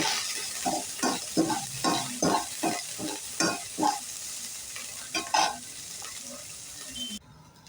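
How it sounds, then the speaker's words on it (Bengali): Onion and capsicum fry over a low-to-medium flame, a crackling sizzle broken by a rhythmic series of spatula scrapes and stirs that slow and fade toward the end. "লো টু মিডিয়াম রেখে আমি এই পেঁয়াজ আর ক্যাপসিকামটাকে একটু ভেজে নিচ্ছি"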